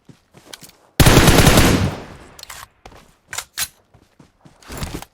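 Gunfire in the battle royale game PUBG Mobile: a loud close burst of automatic fire followed by scattered single shots and short bursts, some more distant, with quiet gaps between.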